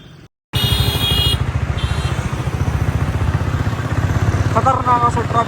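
Heavy road traffic with motorcycles and cars, a dense rumble of engines and puttering motorbikes close by, with horns beeping at the start and again near the end.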